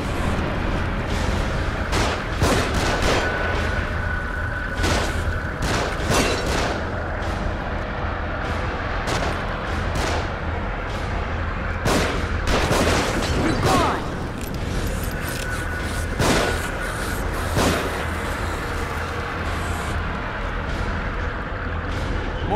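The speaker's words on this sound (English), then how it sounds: "They're shooting from above." Gunfire from enemies shooting down from above in The Evil Within horror game, a steady din of repeated shots and sharp bursts scattered across the whole stretch over constant background rumble.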